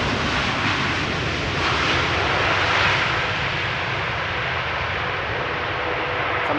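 KLM airliner arriving at Schiphol's Polderbaan runway, a loud, broad roar of engines and rushing air that swells near the middle and then eases slightly, with no voices.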